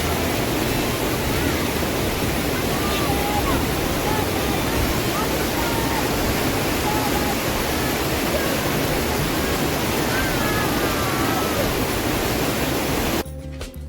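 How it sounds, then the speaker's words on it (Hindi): Waterfall beside a large Shiva statue near Baba Mandir in Sikkim: a loud, steady rush of falling water that fills the whole stretch without pause, close by. "जिसके साथ में ही एक खूबसूरत सा झरना बहता है"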